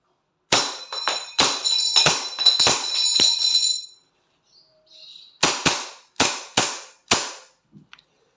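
A WE 2011 Hi-Capa 5.1R gas blowback airsoft pistol fires two quick strings of sharp, snappy cracks, about five shots then four after a pause, close and loud with a faint metallic ring.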